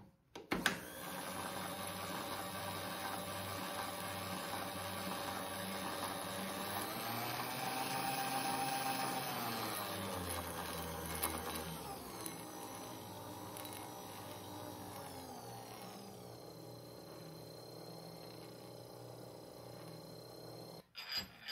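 A motorized milling machine X-axis drive hums steadily while its gears give a light, continuous rattling shimmer as the handle is turned. The drone shifts in pitch midway and fades toward the end, ending in a couple of small clicks.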